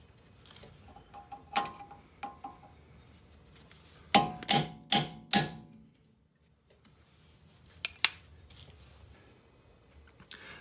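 Hammer blows on a nut during a Mazda 6 rear wheel bearing job: a few scattered light taps, then a burst of four loud, sharp metallic strikes in quick succession, followed later by two more clangs, close by in a quiet workshop.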